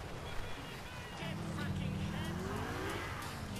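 A car driving in the video game GTA IV, its engine droning steadily and rising in pitch as it accelerates, with someone talking over it.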